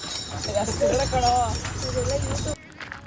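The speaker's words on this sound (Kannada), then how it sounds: "ಬನ್ನಿ ಕುದುರೆ ಓಡಿಸೋಣ, ಬರ್ತೀರಾ?" Horse hooves clip-clop steadily at close range near Gol Gumbaz, with voices talking over much of the sound before it cuts off abruptly.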